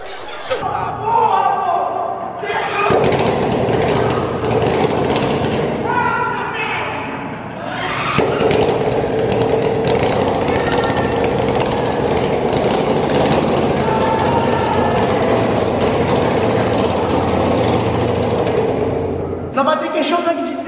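A 600cc motorcycle engine sputters and runs roughly on its first start, loud and close, with brief gaps where it nearly dies before catching again; people talk over it.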